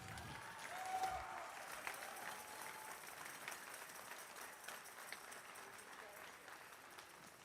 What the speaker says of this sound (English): All right, round of applause for Sanvi.